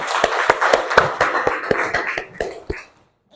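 A classroom of students claps for a classmate, about a dozen evenly spaced, sharp claps close by that slow slightly, then stop and leave a short silence at the end.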